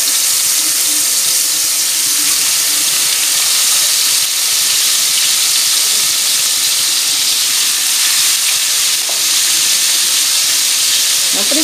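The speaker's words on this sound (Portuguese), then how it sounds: "Ela está fritando." A loud, constant sizzling hiss of pork ribs frying in hot fat fills the whole stretch, close by and unbroken.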